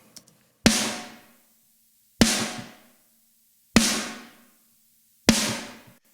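Blended drum mix of a high-tuned snare with overhead and room microphones: four loud, isolated snare hits spaced evenly, each with a sharp crack and a roomy decaying tail, no voices.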